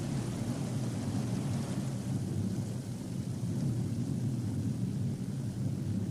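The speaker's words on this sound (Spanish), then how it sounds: "Una cascada produce una escala completa de frecuencias." A waterfall pours in a continuous, full-bodied roar, a steady rushing wash of falling water that holds an even loudness throughout with no other sounds.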